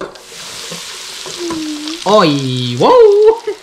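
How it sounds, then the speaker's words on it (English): Striped bass fillets fry in a hot pan, a steady broadband sizzle running throughout with loud close crackling, while a voice exclaims excitedly over it in short bursts. "listen to how it really sizzles in the pan there"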